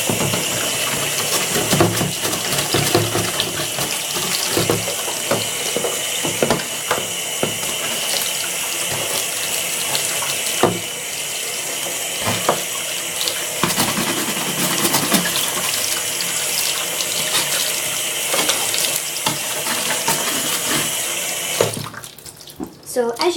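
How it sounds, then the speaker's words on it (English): Running water from a tap washing hay and marks off a bath, a loud continuous rushing splash with occasional scrubbing knocks and clatters, ending with a brief change as the flow shifts. "I'm just going to wash that off with some water and then scrub the little marks off."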